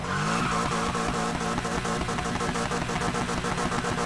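A McLaren race car in Need for Speed Heat, running near 400 km/h, drones past with a steady, pulsing engine roar and a tyre squeal running through it. The sound stays loud and close throughout.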